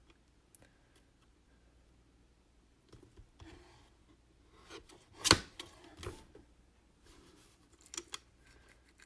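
Faint, sparse snips and rubbing scrapes from trimming a tiny 1/64 scale yard sign, with one sharper cut standing out midway in an otherwise quiet room.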